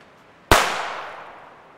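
A single sharp, bright, biting Chinese Shogun firecracker bang, loud and close, with a crackling tail that fades away over about a second.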